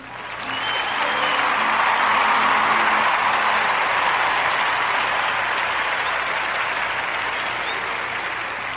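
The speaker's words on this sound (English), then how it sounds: "Let's hear it for Mr. Gary Sinise" A crowd applauds steadily for several seconds, a dense, even wash of clapping that swells quickly and then slowly fades, with no voices standing out.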